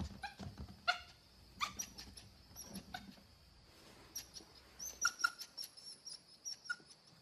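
A dog gives soft whimpers and short yelps in scattered bursts, fairly close, with no talk over it.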